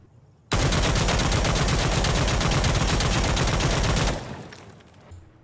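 A G3A3 battle rifle fitted with a foregrip and compensator fires one long, loud, rapid automatic burst in the shooter game Insurgency Sandstorm. The burst lasts about three and a half seconds, then a short echoing tail fades out.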